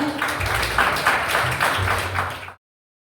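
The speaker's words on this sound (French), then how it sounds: "Sous vos applaudissements, s'il vous plaît." Audience applause at a pageant final, Miss Ouvrière Haïti 2024, greeting a contestant: a dense, steady wash of many hands clapping, fairly loud, with a low murmur beneath, stopping abruptly after about two and a half seconds.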